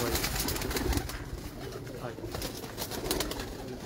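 Breeder pigeons in a loft cooing softly amid a dense, noisy background, with low murmuring calls running throughout and voices talking nearby.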